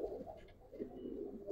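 A Giribaz pigeon gives soft, low, repeated coos close by, a gentle rolling murmur in a quiet setting.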